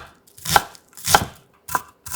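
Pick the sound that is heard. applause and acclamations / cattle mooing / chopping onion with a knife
chopping onion with a knife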